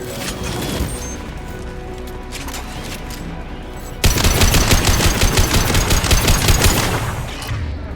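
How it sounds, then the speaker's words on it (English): A high-impact gunshot in the video game Mass Effect 2, heard as loud, rapid rattling bursts of fire that jump in intensity midway and continue as a fast, near, sustained volley before tapering. "Firing a high-impact shot."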